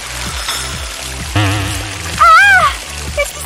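Soda gushes and spills from a rigged trick bottle, soaking a sweater: a hissing, splashing burst mixed with background music and a wavering vocal cry.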